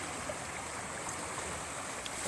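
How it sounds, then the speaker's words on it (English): A wide brook flows past an eroded bank where boulders have fallen away, a steady, even rush of water with no voices. "And the brook has become very wide here."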